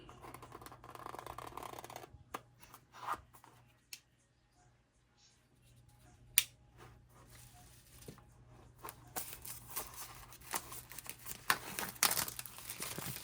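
Packaging for a Pollux Elite tactical flashlight gets opened with scattered crinkles, tears and rustles, mostly quiet with brief louder bursts and a near-silent pause midway.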